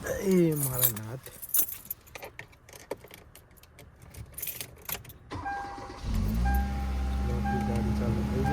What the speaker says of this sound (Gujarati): ગાડી ચાલુ થઈ ગઈ.